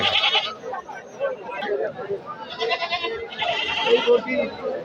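Goats bleat repeatedly at a crowded livestock market in Naogaon held before Qurbani Eid, their calls close and loud over a constant babble of buyers and sellers talking.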